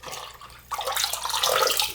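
A K&N air filter is swished around in a bucket of cleaner water. A quiet slosh gives way to a louder, continuous churning splash that stays up close.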